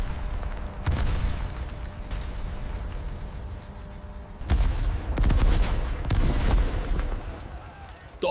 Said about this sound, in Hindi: तोपों की आवाज ने जमीन को हिला दिया। मशीन गन्नों ने आग उगलना शुरू कर दी।